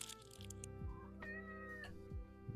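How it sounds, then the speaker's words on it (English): A house cat meows close by, a few short, plaintive cries standing over a steady low background hum with no talking. "Have you got the cat, babe?"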